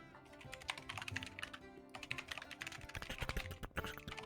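A computer keyboard is typed on in quick, irregular bursts of crisp key clicks, close up and quiet, with no voices.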